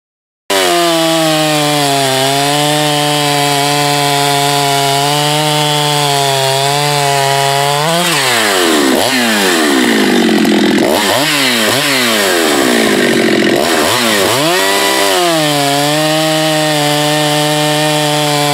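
A Husqvarna 372 chainsaw in a custom build runs loud and close, a steady high engine whine that bogs and rises repeatedly as it cuts into wood, with no voices.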